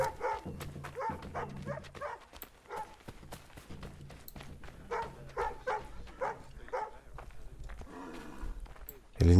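A dog with a city patrol barks repeatedly in short bursts in Assassin's Creed III, mixed with hoofbeats, footsteps and game ambience while someone talks over it.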